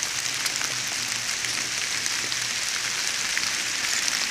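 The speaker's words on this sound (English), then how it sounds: "He does not like the rain falling on his head." Rain falling outdoors, a steady even patter spread across the whole stretch, soft and constant, with no voices over it.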